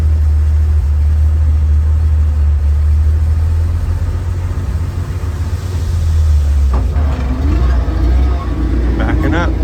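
A 1951 Dodge Power Wagon truck engine rumbles low and steady while backing in reverse, loud and close, with talk over it and a brief rising mechanical whine near the end.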